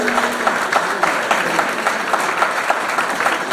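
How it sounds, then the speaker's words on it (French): A hall audience applauds the coordinators and neighbourhood chiefs with steady, even clapping that stays at a constant level throughout, with no voice standing out. "qu'on vous applaudisse"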